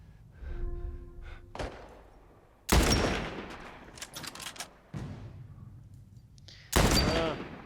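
Three sharp, loud sniper rifle shots crack out in The Last of Us Part 1, spaced a couple of seconds apart, each with a booming echoing tail, amid softer in-game thuds and breathing.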